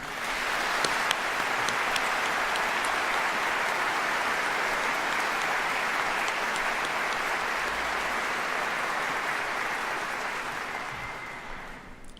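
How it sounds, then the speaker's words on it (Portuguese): An audience applauds Marcos Mendonça, president of the Fundação Padre Anchieta, at a tribute concert: a dense, even wash of clapping, moderately distant and fairly quiet, holding steady for about twelve seconds before tapering slightly at the end. "para quem eu peço uma salva de palmas"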